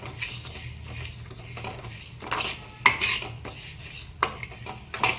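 Coriander seeds and cumin are dry-fried in a pan with no oil, heard as close scraping and metallic clinks of a utensil stirring and tossing the seeds against the pan in irregular bursts, with no talk.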